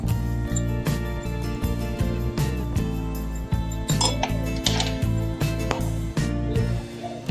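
A spoon stirs chicken masala spices and water together in a bowl, giving a steady run of rhythmic clinks and scrapes against the dish over a constant background hum.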